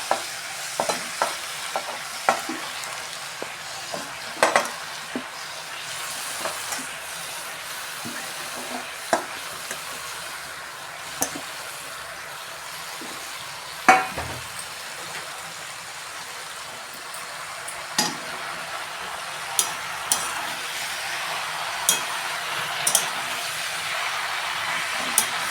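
Malabar spinach stir-frying in a pan for a fish-head recipe, a steady low hiss with scattered light clinks and scrapes of a utensil over roughly twenty-five seconds, close but fairly quiet, with no voices.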